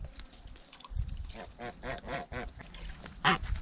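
Several geese honk repeatedly at close range, loud nasal calls overlapping in an uneven rhythm, with a sharp splash-like burst near the end.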